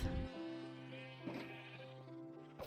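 Sheep in a Minecraft wool farm bleat over a constant tonal music-like drone, with a couple of brief louder bursts near the start and end, all fairly close with no talking.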